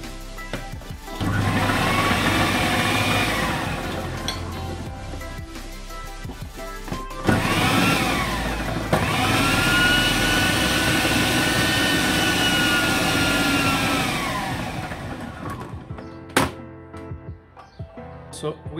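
A food processor blends garlic sauce in two long whirring bursts, loud and steady with a brief pause between them, then cuts off, followed by a few clatters.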